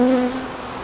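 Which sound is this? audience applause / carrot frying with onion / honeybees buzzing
honeybees buzzing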